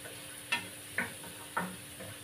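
Onion and garlic frying in oil, a soft low sizzle punctuated by three distinct stirring scrapes of a spatula in the pan, close and quiet with no talk.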